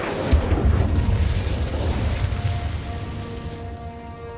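An Incendio fire spell in Hogwarts Legacy erupts in a loud, rumbling, roaring burst of flame that sustains for a few seconds, then thins into a faint tonal shimmer as it dies away.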